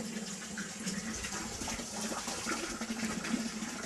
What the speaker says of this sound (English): let's turn this on and see what happens